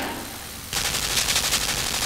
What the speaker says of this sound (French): J'aurais dû descendre de l'ascenseur avant que ça mitraille de partout.